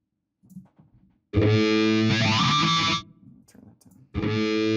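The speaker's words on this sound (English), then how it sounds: "for the electric cello. We've got Tina's amplifier that we recorded" An electric cello plays through an amplifier, a loud distorted, sustained bowed tone that swells for a couple of seconds, pauses under faint noise, then returns.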